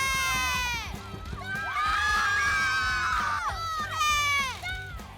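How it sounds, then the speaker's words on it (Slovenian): Home supporters of the Štore primary school team cheer and shout at a parasport competition: a loud, continuous crowd of excited children's voices with rising yells. "Še posebej glasni so bili domači navijači."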